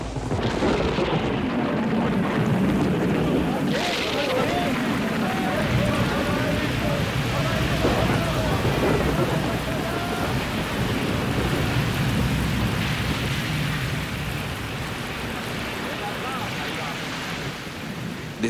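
A storm breaking over the Sea of Galilee, steady heavy rain with deep rolling thunder swelling early and again midway, loud and continuous with no one talking.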